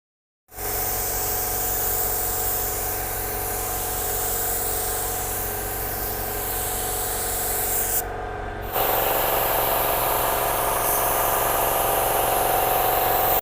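Paint spray gun with a 1.5 tip laying down primer on a car panel, giving a loud, steady hiss over a low compressor-like hum that runs almost the whole time, with a short break and then a slightly louder restart.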